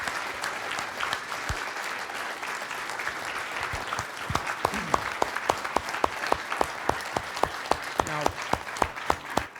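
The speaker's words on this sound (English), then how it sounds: "So a round of applause for Mr." An audience at a writers' talk at Fenway Park applauds an author in a dense, steady wash of clapping that gradually breaks up into sparser, distinct individual claps toward the end.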